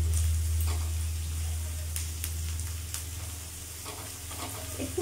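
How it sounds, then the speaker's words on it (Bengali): Finely chopped onion fries in hot oil with black cumin over a medium gas flame, a steady close sizzle broken by a few stirring scrapes, with no talking. "একটু পেঁয়াজটা ভাজা করব,"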